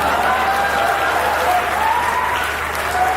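Strong, sustained applause from a large audience at a Hindi poetry and mimicry performance, with steady dense clapping throughout and a faint voice carrying over it.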